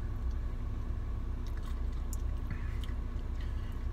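Someone chews a soft, crunchy mouthful of Pecan Pie Blizzard ice cream with pecans, steady close mouth sounds over a constant low rumble, with no talking.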